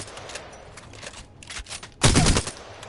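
Alternator submachine gun fire in Apex Legends, a few scattered shots followed by a sharp loud burst near the end, close and unaccompanied by talk.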